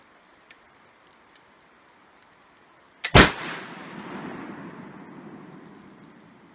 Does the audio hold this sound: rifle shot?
yes